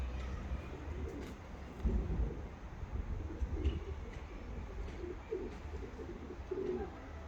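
Pigeons coo softly in a rooftop loft on a windy day, a low continuous murmur with faint flutters, moderately distant and steady throughout without speech.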